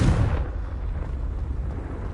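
A single Confringo spell explosion in Hogwarts Legacy, a loud, close boom at the start that fades into a lingering low rumble.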